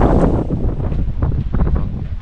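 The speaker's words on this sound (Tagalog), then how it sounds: "Lakas ng hangin." Strong typhoon wind roaring and buffeting steadily close to the microphone, with gusty rumbling throughout and no voices.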